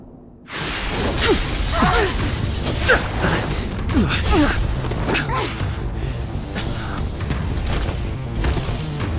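A game elevator mechanism in Honkai Star Rail groans and rumbles for several seconds, with creaking, metallic clanks and whooshing sweeps over a steady low drone, loud and close.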